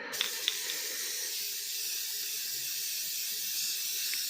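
Spray paint can hissing steadily onto a vintage metal step stool, one continuous close, bright spray that holds at an even level, with a couple of faint clicks at the start.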